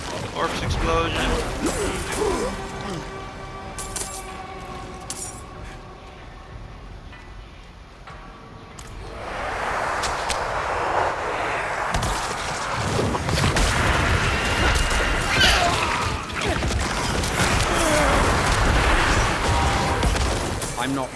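Corpse explosion spell bursting in the Diablo 4 game as a Necromancer clears a big group, a run of loud booming, crashing blasts that swell in the second half and keep going over a busy game mix while someone talks.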